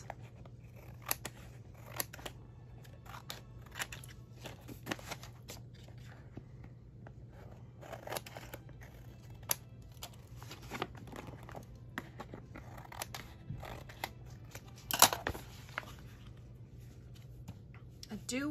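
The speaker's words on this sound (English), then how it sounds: "I can trim this excess." Scissors trim excess scrapbook paper from a photo layout, giving scattered close snips and crisp paper crunches over a low steady hum, with quiet handling noise between cuts.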